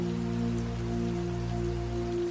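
Light drizzle falls steadily with a cold wind, making a continuous, even patter with no breaks and no voices.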